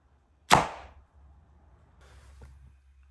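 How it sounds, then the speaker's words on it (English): An arrow shot from a Mathews Lift RS compound bow, nicking and tearing through cardboard: one sharp, loud close snap and thump, followed by a faint rustle and a small click. "That shot was a little louder because I nicked the cardboard."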